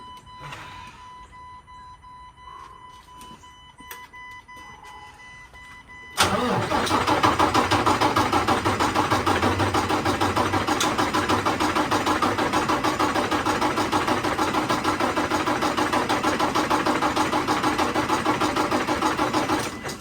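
A car engine sits quietly with faint background hum, then cranks and catches after hand-pumped fuel priming, settling into a loud, steady idle that runs on to the end.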